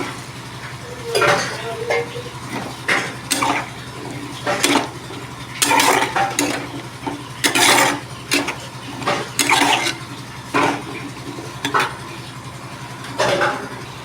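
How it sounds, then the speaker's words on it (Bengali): Cut potatoes go into a frying pan and are stirred, with repeated clattering of a utensil against the pan over a steady low background hum, close and fairly loud. "এরপর কেটে রাখা আলুগুলো দিয়ে দেবো"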